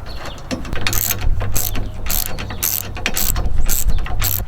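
Ratchet wrench with a deep socket tightening hardware on a truck bed kayak rack, rapid repeated clicking in bursts of strokes, close and fairly loud.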